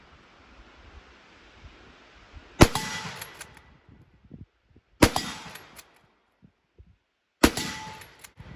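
Three sharp rifle shots from an Enfield No. 4 Mk 1 in .303 British fired at an outdoor target, each crack loud and close with a ringing decay, spaced about two and a half seconds apart over quiet wind.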